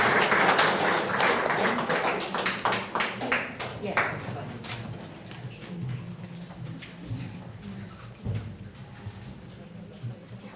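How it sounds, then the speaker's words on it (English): Seminar attendees clap for two readers, a burst of close, distinct handclaps that thins out after a few seconds as talking and room murmur take over. "a round of applause for them both"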